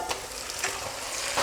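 Lamb meat going into golden fried onions in a pot for a one-pot lamb bhuna, giving a steady, close sizzle and frying hiss with a brief stir, no talk.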